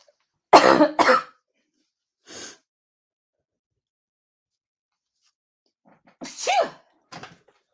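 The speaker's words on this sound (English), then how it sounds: "I feel a cough attack coming on." Several harsh coughs burst out in quick pairs, separated by silent pauses, close and loud, with a final couple of coughs near the end.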